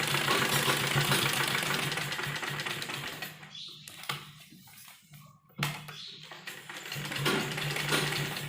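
A sewing machine stitches a kurti neck design, running steadily and loudly before falling quiet in the middle, then starting up again near the end.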